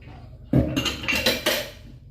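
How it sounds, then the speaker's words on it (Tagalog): Plates and cutlery clink and clatter during hand dishwashing, with a few distinct ceramic knocks over a soft background hiss. "Ganito po si Mrs. A maghugas ng plato."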